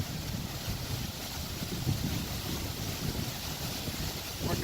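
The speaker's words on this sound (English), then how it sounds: "Wind picked up." Gusty wind blowing across a microphone outdoors on a rooftop during a flashing replacement, a steady broadband rush with low rumbling buffets throughout and a stronger swell near the end, no talking.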